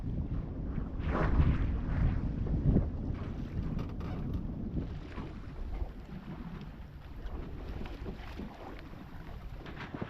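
Sailboat under way in the wind in open countryside, with a steady low rush of wind buffeting the microphone and water moving along the hull, fairly even throughout with a few stronger gusts early on.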